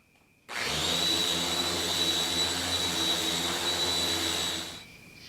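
A power sander runs on a wooden fireplace panel, starting abruptly and holding a loud, steady whining roar for about four seconds before winding down and stopping.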